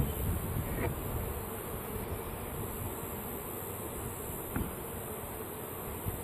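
Honey bees buzz steadily around a queen cage with a candy plug inside a shipped package, a continuous close insect drone at moderate level with no talking.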